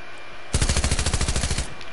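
Rapid SMG gunfire in Fortnite, a single loud sustained burst of about twenty evenly spaced shots lasting just over a second, close and dominant with no speech.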